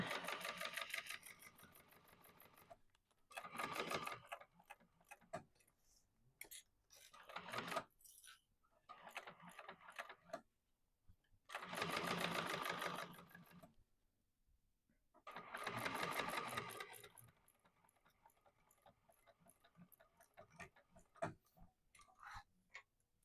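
A sewing machine stitches a quilt, running in several loud sustained bursts separated by short pauses and quieter clicks of handling, with no talking.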